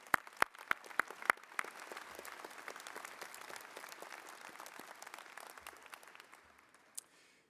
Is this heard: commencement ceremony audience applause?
yes